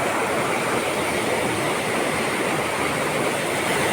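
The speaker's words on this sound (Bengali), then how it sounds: "পানি দেখছেন কেরালার কি স্পিড পানি।" Fast-flowing water in Kerala rushes past in a steady, loud roar, a dense unbroken gush with no voices over it.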